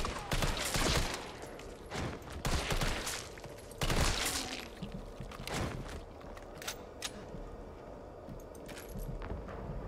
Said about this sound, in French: c'est pour me faire tirer des balles